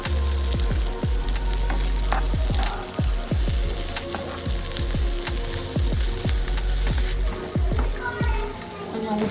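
Ginger, garlic and tamarind fry in hot oil in a pan for onion-coconut chutney, a loud, steady sizzle broken by repeated scraping stirs at a quick, regular rhythm.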